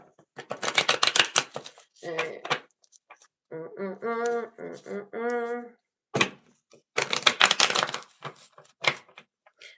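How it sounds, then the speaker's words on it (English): Bursts of riffling tarot card shuffles, close and fairly loud, come in several rounds, broken up by a brief stretch of spoken voice in the middle. "Being very dramatic with the shuffling."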